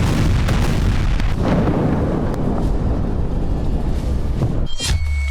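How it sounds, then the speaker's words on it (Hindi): Continuous loud rumbling roar of a large explosion, with a few sharp cracks and a brief high ring near the end. "तीसरा विस्फोट,"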